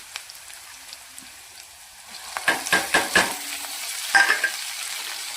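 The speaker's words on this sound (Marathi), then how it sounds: "टोमॅटो पण एकदम चांगला फ्राय करून घ्या." Onion fries with chopped tomato and coriander in a pan, a soft steady sizzle broken by several close spatula scrapes and stirring clatters in quick bursts, with no voices.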